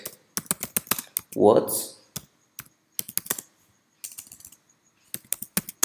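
Fast, crisp keystrokes on a computer keyboard while Java code is entered, coming in quick clustered bursts with short pauses, and a brief spoken word in the middle of the typing.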